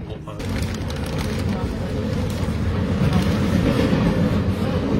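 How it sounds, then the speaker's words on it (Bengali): A train passing near Hallstatt, Austria: a loud, continuous low rumble that builds slightly over the few seconds, with faint voices mixed in. "এটা ট্রেন যাচ্ছে।"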